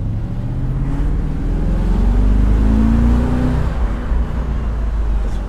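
An Audi S4 floored in second gear from low revs, the engine note climbing steadily in pitch as it pulls hard at full throttle, loud and close from inside the car, then easing off near the end.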